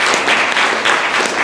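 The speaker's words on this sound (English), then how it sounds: "just a round of applause for Tamarala and her crew at TAGG" An audience applauds a local crew in a steady, dense wash of clapping that fills the whole moment at close range, with no talk over it.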